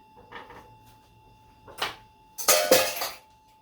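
A silicone scraper scrapes roasted garden vegetables around a pan in a few short bursts, the last two louder and longer, with soft clinks and no talking.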